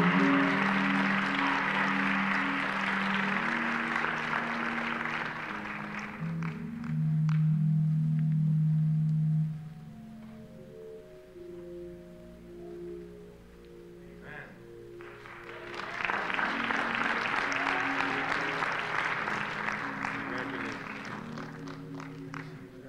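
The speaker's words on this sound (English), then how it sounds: "Can you give him a round of applause, please?" A congregation claps at a Sunday church service in two bursts, at the start and again near the end, with sustained organ-like tones and quieter stretches between the rounds of applause.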